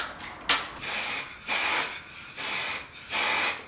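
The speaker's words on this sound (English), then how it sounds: "I am going to spray this part black too" A lock and entryway hardware get sprayed black with an aerosol can in four separate hissing bursts, each lasting about half a second to a second with short pauses between, close to the mic.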